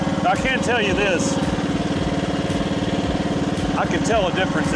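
AGT WH12R Chinese mini excavator's small engine running steadily, a close, even, chugging mechanical drone throughout, with someone talking over it.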